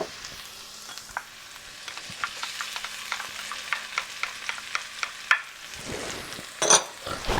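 Garlic and scallions sauté in oil in a wok, a soft continuous sizzle punctuated by a series of light spatula taps and scrapes, with a louder clatter near the end.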